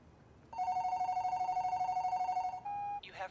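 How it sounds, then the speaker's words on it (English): A telephone rings with a steady electronic warble, repeating continuously for about two seconds, then a single sustained beep follows as the line clicks over to an answering machine. "You have reached the phone of Jim Doyle."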